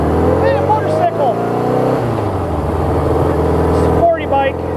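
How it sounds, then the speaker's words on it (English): A sporty motorcycle roars past on a road, its loud engine note rising and then falling away, heard twice with a voice talking over it. "Hey, a motorcycle."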